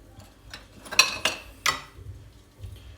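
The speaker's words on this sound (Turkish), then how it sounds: "Güzelce karıştırıyoruz." Two eggs whisked in a bowl with a utensil: three sharp clinks against the side in quick succession, then softer stirring, close and clear with no talking.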